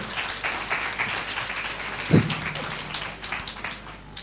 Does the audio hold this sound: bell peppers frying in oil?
no